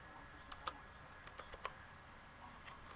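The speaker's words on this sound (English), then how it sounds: "Oh, yeah, I got to press the number lock key." Scattered keystrokes on a computer keyboard, a few sharp clicks spaced irregularly, with quiet pauses between them, close and fairly soft.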